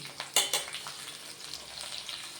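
Ivy gourd (tondakaya) frying in a pan for a masala curry: a soft, steady sizzle with a few sharp scraping stirs near the start, fading to a quieter, continuous frying hiss.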